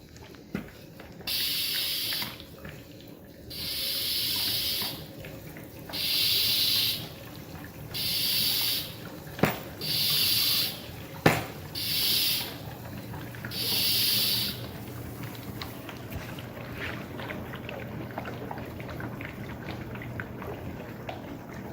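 A hand pump sucks oil from the engine of a 2018 Yamaha FXHO WaveRunner, giving about eight rhythmic hissing suction strokes separated by short pauses, with faint bubbling and a couple of sharp clicks.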